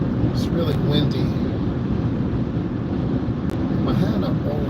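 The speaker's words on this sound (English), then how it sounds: "It's really windy." Strong wind buffets the microphone while driving a car, a steady loud low rumble with gusty roar throughout and no clear breaks.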